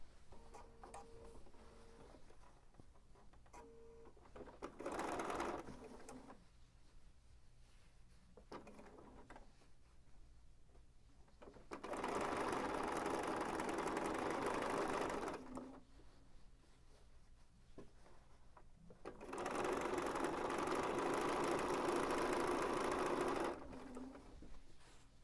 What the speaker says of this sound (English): Okay, so I'm just going to continue doing this all around my quilt,